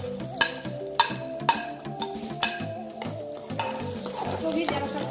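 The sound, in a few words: frying onion and carrot in oil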